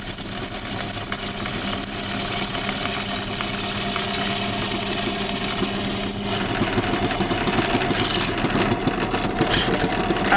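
A power drill whines loudly and continuously, grinding through the metal roof of a Ford Transit van with a harsh, steady roar that shifts slightly in pitch partway through.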